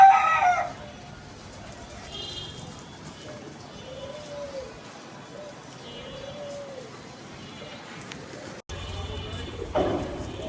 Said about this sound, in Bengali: এখন আবার মুরগি বাচ্চাগুলো ছেড়ে দিছি, যেগুলো বড় হয়েছে, ওরা ঘুরতেছে, খাচ্ছে